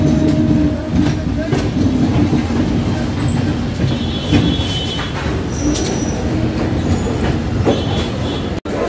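The Rajdhani Express train runs past Dum Dum, a loud, continuous rumble of wheels on rails with rhythmic clatter and faint squeals throughout.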